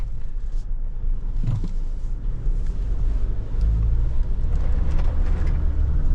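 SsangYong Musso 4x4 ute driving off road over rutted ground, a loud, deep engine and road rumble with surging low thumps and rattling bumps, steady and close, without speech.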